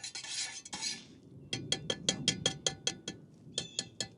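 A metal spoon scraping and clinking inside a titanium pot on an alcohol stove: a brief rough scrape, then a quick rhythmic series of about a dozen bright taps and scrapes, close and clear with no talking.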